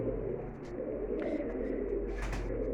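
Pigeons in a large coop keep up a continuous low cooing murmur, with a few brief wing flutters and chirps rising over the steady flock sound.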